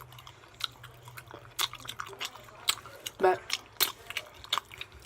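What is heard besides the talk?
loud smacking while eating crab and shrimp mukbang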